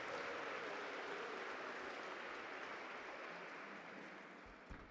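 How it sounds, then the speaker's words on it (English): A crowd claps steadily for hospital management during a presidential visit to Steve Biko Hospital, a dense, even patter of applause that slowly fades. "let us give the management of the hospital a round of applause"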